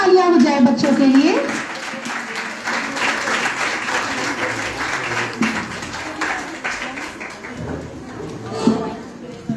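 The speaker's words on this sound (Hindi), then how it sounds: "वाओ, जोरदार तालियां हो जाए बच्चों के लिए।" A school audience applauds children after their Grandparents Day stage performance, a loud burst of clapping that continues steadily for several seconds, with a voice speaking over the start.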